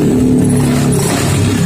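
A Honda Vario 150 scooter with an ignition fault is started up close, giving a loud, steady low engine drone with a faint rhythmic pulse, with no talking.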